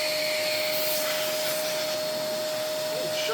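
A Hoover Portapower S1126 vacuum cleaner, a secondhand car boot sale find being tested with its hose, runs with a loud, steady motor whine and airy rush that holds constant throughout.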